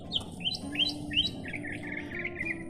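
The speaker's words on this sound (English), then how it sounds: "So who's that in there making all that noise? Probably the bluebirds and his mates." Bluebirds chirp in a garden, a quick series of bright, high tweets and short trills close by over a low, steady background rumble.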